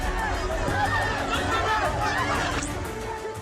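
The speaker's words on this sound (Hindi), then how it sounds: "जहां पिछले 10 रोज से न भीड़ कम हो रही, न अफरा तफरी रुक रही" A dense crowd of people fleeing Afghanistan at Kabul Airport produces a continuous babble of many overlapping voices and shouts, close and loud, with shuffling movement underneath.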